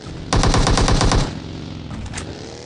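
A rapid automatic burst of gunfire from PUBG Mobile, about ten close, loud shots in quick rhythm, followed by a quieter tail with a couple of fainter shots.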